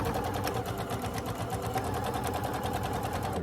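A sewing machine stitches a quilt block with a 1/4 inch foot, running steadily at a slow, even pace with a continuous rhythmic needle patter throughout.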